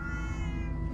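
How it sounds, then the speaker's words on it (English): Many cats in the Minecraft: Story Mode video game meow together in a steady, fairly faint chorus of sustained mews with no speech. "Oh, many cats. So many cats."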